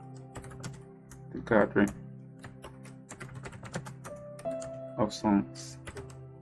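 Close, rapid typing on a computer keyboard while designing a church flyer in CorelDRAW, with uneven clusters of keystrokes and a few louder taps as a person speaks over it.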